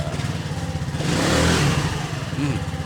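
Rusi RFI 175 scooter engine revving on a test drive after a CVT upgrade with a GY6 grooved bell, a steady mid-pitched drone that swells louder through the middle and eases back, heard alone.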